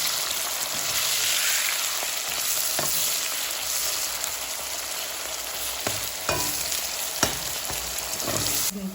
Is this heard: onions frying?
yes